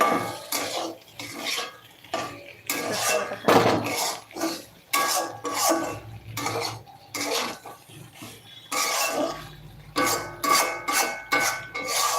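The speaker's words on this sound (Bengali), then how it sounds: "এবার বাটিটা ঢেকে রেখে দেবো" A bowl in a home kitchen is covered with a lid, with a series of close, irregular clinks and knocks of cookware and utensils separated by short quiet gaps.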